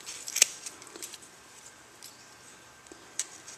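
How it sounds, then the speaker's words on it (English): Scissors snipping through looped yarn on a pom-pom made with a circle template, a few crisp close cuts spaced irregularly over a quiet room. "get your scissors in there"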